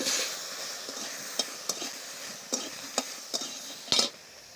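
Bottle gourd and pumpkin sizzling in a frying pan as they are stirred, a soft steady hiss broken by several sharp clinks of the spatula against the pan.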